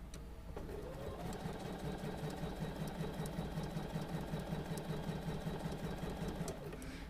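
A sewing machine stitches a quilt seam in a quick, even mechanical chatter that runs steadily for several seconds before stopping.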